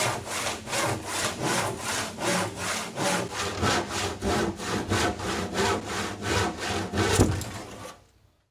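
A thick Parota wood slab being cut with a handsaw gives steady, rhythmic rasping strokes, roughly two per second, loud and close, until the sawing stops near the end.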